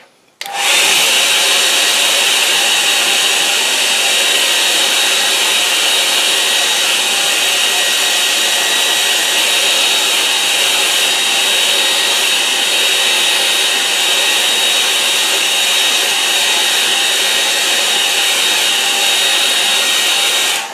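A hair dryer blows steadily on a watercolour painting to dry it, a loud continuous whooshing hum that starts abruptly and runs unbroken for about twenty seconds with no talk.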